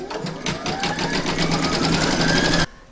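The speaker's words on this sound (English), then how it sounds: "Pop your hoop into your machine and stitch round number 1" An embroidery machine stitches a placement outline on fabric in a hoop, making a steady, rapid mechanical whir of close, loud stitching that runs without a break and then stops abruptly.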